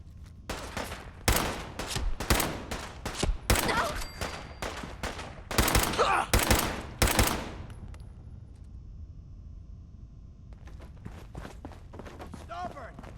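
Rapid bursts of automatic gunfire in Fallout 4 come in repeated loud volleys, with shouting voices mixed in, then fade to quieter scattered noise and distant shots.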